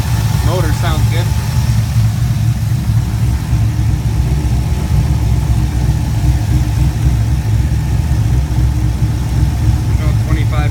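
A 2004 Chevrolet Colorado with a swapped-in 5.3L V8 running a stage 4 cam idles steadily, its low, loping rumble constant and loud close by for the whole stretch, with brief chirpy noises near the start and end.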